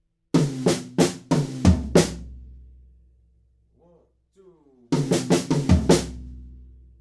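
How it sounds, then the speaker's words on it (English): A slow triplet-feel drum fill in a rock groove, two bursts of close, ringing hits in groups of three separated by a quiet gap holding a brief faint voice-like sound. "The next one is like a triplet-y fill"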